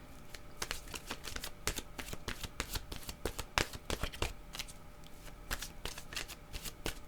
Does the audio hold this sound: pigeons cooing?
no